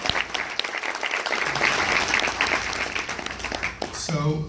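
An audience at a filmmaker's fan convention appearance in Chicago breaks into applause, a dense burst of clapping and cheering that runs throughout, with a voice starting to speak at the very end.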